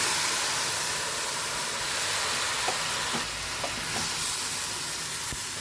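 Spicy potatoes with coriander leaves and squeezed lemon sizzle in a pan, a dense continuous hiss broken by a few faint clicks and scrapes of stirring, with no talking.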